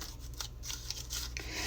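Short scissors snipping pieces from an old leather cover of an antique book, several quiet, crisp cuts in uneven succession, close to the listener with no talking.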